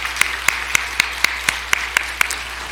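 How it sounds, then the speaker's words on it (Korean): Sharp, evenly spaced claps from a church congregation ring out about every quarter second, around ten in a row, crisp and close against a quiet background. "먼저 하나님께 영광 박수를 올립니다."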